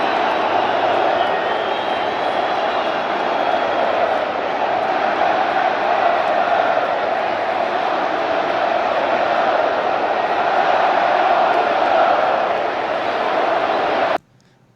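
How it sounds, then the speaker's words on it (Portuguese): A large football stadium crowd jeers and chants against its own team's players, forming a loud, steady wall of massed voices that holds for about fourteen seconds before cutting off abruptly. "Pois é, bastante vaia aqui, cânticos também contra os jogadores."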